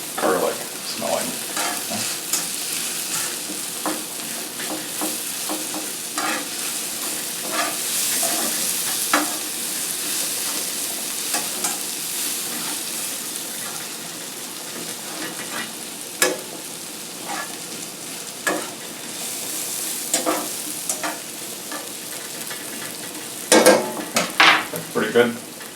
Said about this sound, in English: how long to cook the garlic is sort of up to you